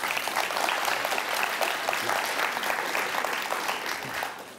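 Steady, dense applause from a conference audience fills the whole stretch, moderately loud and even, then tapers off at the very end.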